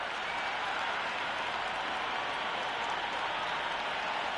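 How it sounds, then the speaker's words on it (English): A stadium crowd at an India versus Australia T20 cricket match makes a continuous, dense roar of cheering and applause, loud and unbroken throughout. "already the crowd is up and about"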